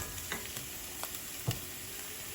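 Garlic sautéing in a pan with shrimp and mussels to follow, a quiet steady sizzle with a few soft stirring taps, no talking.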